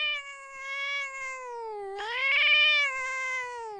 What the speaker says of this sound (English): she heard the cat screech